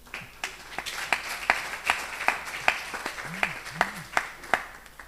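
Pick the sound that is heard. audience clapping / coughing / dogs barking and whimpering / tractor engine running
audience clapping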